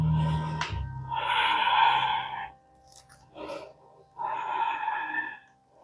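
Deep breathing held in a yoga pose, slow loud inhales and exhales through the nose and mouth, heard close with airy rushing breaths separated by short quiet pauses.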